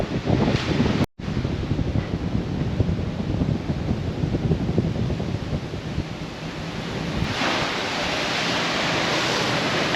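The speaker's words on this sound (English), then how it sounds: "It's kind of cool and breezy out" Steady, loud wind blows across the open deck of the MSC Seashore cruise ship at sea, roaring into the microphone with a broad rushing noise and a brief dropout early on.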